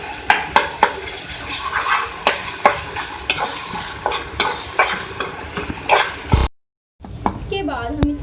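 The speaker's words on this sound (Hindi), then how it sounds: "इसको भी हम फ्राई कर लेंगे।" Ginger garlic paste frying with beef keema in a pan, a steady sizzle broken by repeated scrapes and knocks of a stirring spoon, close and busy, then a brief cut to softer sizzling.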